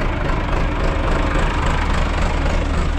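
A tractor engine, jump-started after rainwater got into its exhaust, idles steadily up close with a loud, even, low rumble and no break or change in rhythm.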